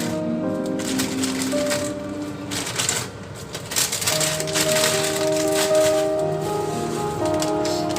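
Dry bihon rice noodles dropped into boiling broth for pansit, making a close, steady crackling rustle with bubbling underneath that lasts throughout.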